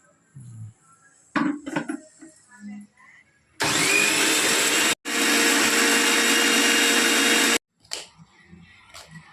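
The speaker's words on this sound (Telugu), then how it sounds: "ఇప్పుడు కొంచెం నీళ్లు పోసుకొని మిక్సీ పట్టాలి" A mixer grinder whirs loudly, blending masala with water for country chicken curry, in two sustained bursts separated by a brief pause, with softer kitchen clatter and faint voices before and after.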